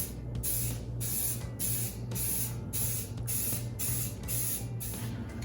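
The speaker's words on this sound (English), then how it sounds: "we're going to do a base coat of the khaki over all the parts we got here" Khaki base-coat spray paint goes onto shotgun parts in a series of short, close aerosol bursts. Each hiss lasts under a second, separated by brief gaps in a steady rhythm.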